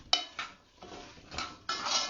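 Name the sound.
stirring crumble ingredients in a dish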